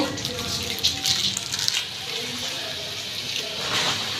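Raw, unboiled water is poured into a container in a home kitchen, giving a steady splashing gush that stays fairly quiet throughout, with faint background voices.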